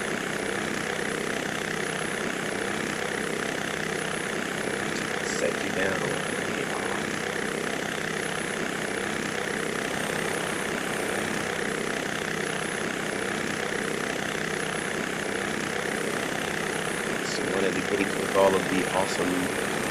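A helicopter in a flight simulator game flies around FlyTampa's Copenhagen airport scenery, giving a steady, unbroken rotor and engine drone at an even level for the whole stretch.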